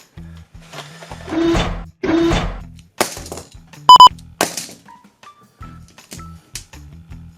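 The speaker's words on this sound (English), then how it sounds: "let's crack these eggs open." Plastic capsule eggs holding Hello Carbot Mini Koong toys being cracked open, with several sharp plastic snaps and clacks close by, separated by quiet gaps and light handling rattles.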